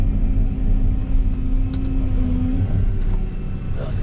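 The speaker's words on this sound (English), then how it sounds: "Uh-oh, the skid steer's kind of stuck." A skid steer loader stuck while grading, its diesel engine giving a steady low rumble with a sustained strained tone, close and moderately loud, no talk.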